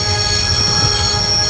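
A train grinding to a stop in the adventure video game Broken Sword: The Shadow of the Templars, a loud, steady rumble of wheels with a sustained high metallic squeal throughout.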